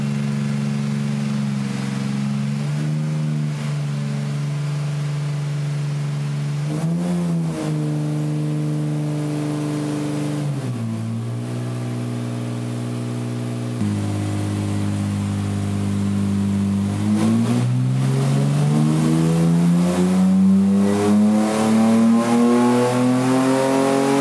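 A turbocharged Fiat Multipla fitted with an aftermarket Maxeco Sport Premium engine control unit revs on a chassis dyno, its engine note rising and falling through several loud, close pulls before climbing into a long, sustained high-rev run.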